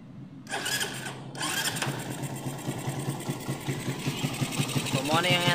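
A motorcycle engine, refitted with stock parts, runs at a steady, rattly idle close by, with a person talking over it throughout.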